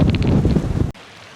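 A strong wind gust on a hillside hike buffets the microphone with loud, rumbling roar for just under a second, then cuts abruptly to a quieter hush.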